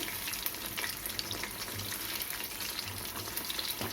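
Fish pieces fry in hot oil in a pan, giving a continuous, even, close sizzling hiss that holds steady throughout, with a few faint clinks near the end.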